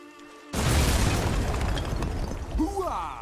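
In the video game Deadfall Adventures, a cannon fires with a sudden, loud booming blast that rolls into a long, rumbling decay. A voice exclaims near the end.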